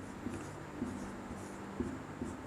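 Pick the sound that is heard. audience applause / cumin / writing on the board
writing on the board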